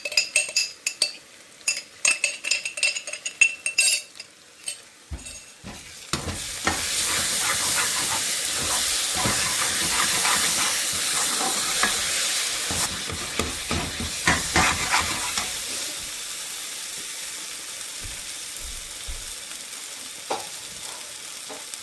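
Tomato puree hits a hot pan with a sudden loud sizzle and hiss. Spoon clinks and scraping stirring run under the steady frying, and the sizzle gradually eases into intermittent stirring noises.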